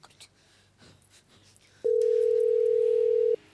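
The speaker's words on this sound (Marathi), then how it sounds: "डॅडीसनीच फोन लावतो मी" After quiet shuffling, a single long, steady electronic ringback tone sounds through a phone for about a second and a half, then cuts off.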